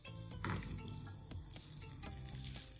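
An egg fries in margarine or pork lard in a pan, a soft continuous sizzle with light crackles and a few scraping stirs, close but quiet, with no voices.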